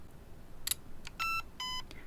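Short electronic beeps from an INF M4 Red Skeleton Edition airsoft electric gun during fire-mode setting: a brief burst, then two sustained tonal beeps and a fainter final blip, clear and close against a quiet background.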